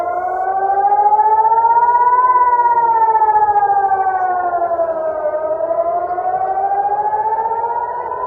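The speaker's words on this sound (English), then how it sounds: "So this is the sirens he was referring to." Air raid sirens wail across Israel during a missile attack, a loud, steady rising-and-falling civil defense tone that swells and dips slowly over several seconds with no voices.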